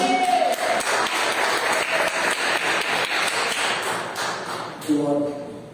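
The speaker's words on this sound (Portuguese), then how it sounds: "Você pode aplaudir o Senhor Jesus?" A church congregation claps together in steady rhythmic applause that fades gradually toward the end, with voices briefly rising at the start and close.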